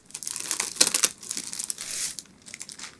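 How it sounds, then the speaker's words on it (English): Thin plastic bag slipped off a bunch of fresh herbs such as cilantro, basil or parsley in a kitchen, a run of close crinkling and rustling with a sharper burst near the middle, no talk. "you can just remove the bag if they have a bag over the top"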